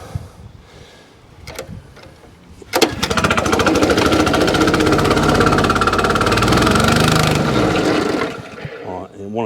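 A Honda GX small petrol engine is pulled over and fires up after a few short tries, then settles into a loud, steady, rattling run close by before cutting back, with people talking over it.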